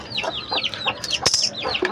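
Chickens, including young chicks, cluck and peep close by in quick repeated calls, with a brief rustle or knock in the middle.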